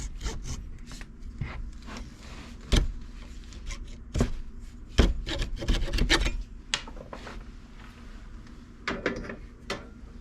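A small sander working on an old discarded shop hammer, uneven grinding and rasping bursts with irregular knocks and clatters, close and moderately loud, no speech.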